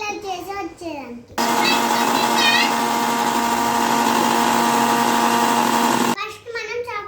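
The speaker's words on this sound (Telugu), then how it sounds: "ఇది నేను మిక్సీ పట్టుకొని వస్తాను. చిట్కలో మిల్క్ షేక్ చేసుకొని వచ్చేస్తాను." An electric mixer grinder blends a biscuit milkshake in one loud, steady whirring burst lasting several seconds. A voice talks before and after the grinding.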